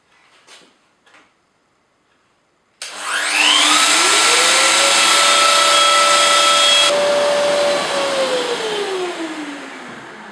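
A Festool OF1400 router spins up after brief quiet and cuts a dovetail joint, a loud, sustained motor whine whose pitch dips under load and rises again before it winds down.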